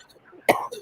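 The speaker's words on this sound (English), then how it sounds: "you want to make a cough?" A single short cough from a person, sharp and close, preceded by faint background murmur at a birthday gathering.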